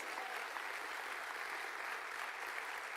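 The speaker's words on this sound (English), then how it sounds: "give yourself a round of applause" Audience applause from students and guests at a public talk, a dense, steady clapping that fills the whole stretch at an even level with no voices over it.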